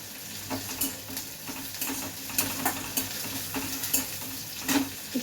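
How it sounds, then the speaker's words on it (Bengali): Onions with green chillies fry in a pan under a continuous near sizzle, with a steady run of stirring scrapes and light clinks throughout. "পেঁয়াজটা একটু লাল লাল করে ভাজতে হবে তার সাথে আমি দুটো কাঁচা লঙ্কা দেবো"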